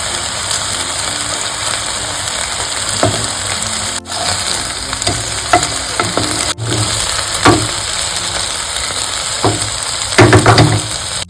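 Chicken reshmi kabab pieces frying in a pan, a steady close sizzle broken by occasional sharp clicks and knocks, with no talking.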